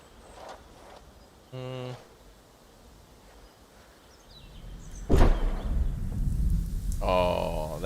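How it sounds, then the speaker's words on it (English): A thunderstorm in the zoo-building game Prehistoric Kingdom, with a loud rumbling crack of thunder breaking in partway through and rolling on to the end, after a quieter stretch and a few brief knocks. "That thunder, though."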